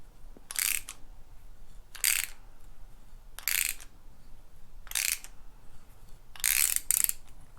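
A thread tap on a small block Chevy oil filter adapter housing grinds and clicks as it is turned through the hole. Five separate bursts come at a steady pace, close up and with nothing else in between.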